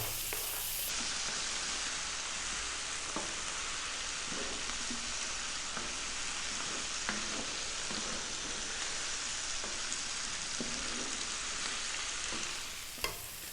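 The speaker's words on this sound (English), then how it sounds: "Again on this medium heat, stirring often now." An onion-based mixture for a Gulf Middle Eastern dish sizzles over medium heat in a pan, a dense continuous hiss with frequent soft scrapes of stirring, near and steady with no voices.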